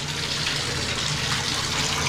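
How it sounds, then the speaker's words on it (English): Tap water running steadily for a household rinse, a continuous close broadband rush with no voices. "we just want to do a little rinse"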